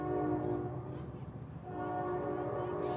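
A train rolls through a downtown area during a parade, its horn sounding in long sustained blasts over steady rumble, moderately distant and fairly quiet.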